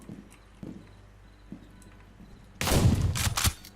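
Gunfire in a tactical first-person shooter game, with a few scattered soft thuds before a loud, dense burst of shotgun or rapid fire near the end.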